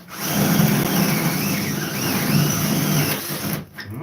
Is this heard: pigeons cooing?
no